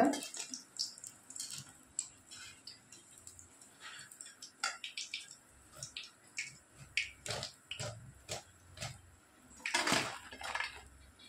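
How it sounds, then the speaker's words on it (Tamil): Freshly fried bajji fritters are lifted from hot oil and left to drain, giving a run of light metallic clinks and scrapes from the pan and utensils with soft drips, a louder clatter near the end, all close and without talk. "இப்போ எண்ணெயை நல்லா வடிச்சிட்டு எடுத்துக்கோங்க"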